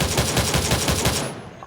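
Rapid automatic gunfire in a shooting video game at a fuel station, a fast loud stream of shots for over a second before cutting off abruptly into near silence.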